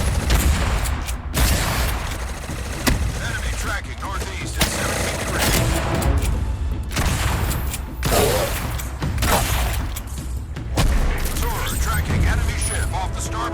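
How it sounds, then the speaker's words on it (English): Shotgun blasts from the Battleship movie tie-in video game, repeated booming shots in an ongoing firefight, loud and dense with continuous background noise throughout. "the last weapon is a shotgun that is actually one of the more fun shotguns I've ever used."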